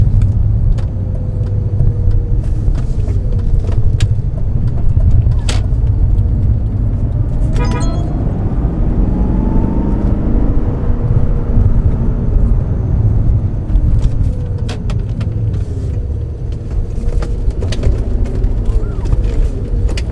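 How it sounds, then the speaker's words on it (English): A 2003 BMW 540i (E39) engine hums steadily from inside the cabin, a low continuous rumble with road noise throughout and a few faint clicks. "Maybe you can hear the car."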